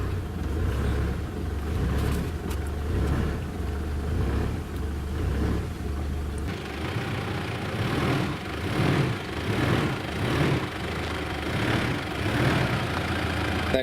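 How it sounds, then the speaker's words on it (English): An off-road vehicle engine runs in low range with a cheap eBay throttle controller, idling with a steady rumble and then surging unevenly into jumpy revving. "We'll just touch this throttle and you'll watch it jump basically."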